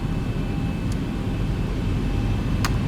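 Boeing 737 jet engines in X-Plane 11 spooling up to a steady, loud, broadband roar with a continuous drone that holds throughout, heard alone without talk.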